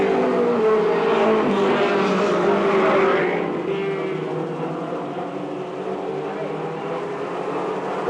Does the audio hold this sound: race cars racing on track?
yes